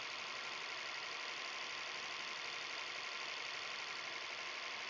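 Datsun 240Z engine running at a steady idle after an alternator replacement, a continuous, fairly loud broadband mechanical hum with no break and no talking.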